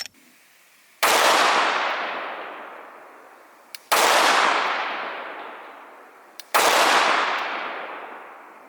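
Three loud, sharp gunshots from a Glock 17 pistol, evenly spaced about three seconds apart, each a sudden crack followed by a long decaying echo.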